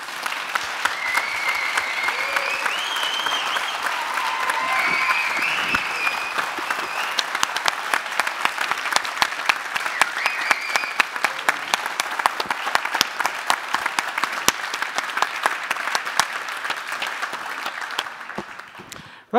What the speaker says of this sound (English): one final applause, please